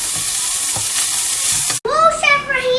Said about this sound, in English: You're going to want to cook your broccoli really quick because it burns very fast.